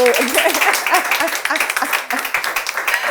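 A studio audience on a French-language talk show applauds a guest as he arrives, brisk close clapping with an uneven rhythm that carries straight through the short moment.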